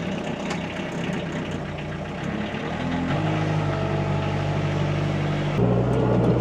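A small tractor engine rumbles close by, first running rough, then settling into a steady, loud idle with rising and falling pitch steps as it revs.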